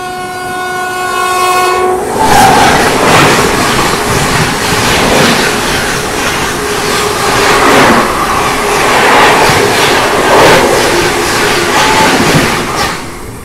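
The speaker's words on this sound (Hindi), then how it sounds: "राजधानी आने वाली है" The Rajdhani Express sounds a long horn blast, then thunders past close by, with loud, continuous rumbling and rhythmic clattering wheels over the rails.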